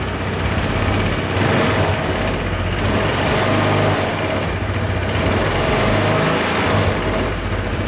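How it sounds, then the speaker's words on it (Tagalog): Close-up exhaust idle from a 2023 Honda PCX 160 scooter runs as a continuous low drone with a fine rhythmic ticking, the pitch wavering slightly as the engine hums on without talk. "So yan yung tunog guys ng ating tambutso"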